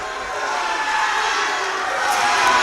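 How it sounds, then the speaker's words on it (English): Crowd at a boys varsity high school basketball game between Nordonia and Hudson, a sustained loud roar of cheering and shouting that swells slightly toward the end. "Crowd extremely engaged into this one"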